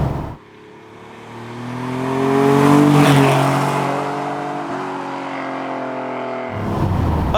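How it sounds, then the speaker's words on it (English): A TVR Sagaris with side-firing standard exhausts drives past, its engine note rising in a strong rev to a peak and then easing off, loud and close, followed by a sudden cut and the engine pulling again, with no talking. "Those side-firing exhausts actually sound pretty good too, even with the standard pipes on."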